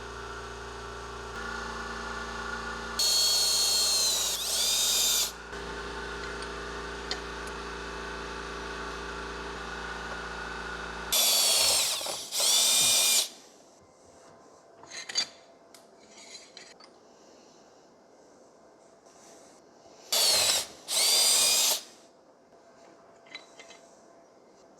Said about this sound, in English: we have our 3 holes drilled, 1 inch from the end, centered at 12 inches